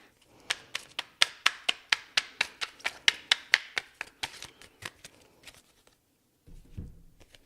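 Tarot cards are shuffled briskly by hand in a rapid run of about twenty crisp, evenly spaced snaps, close and clear, then a pause and a soft handling rustle as cards are pulled.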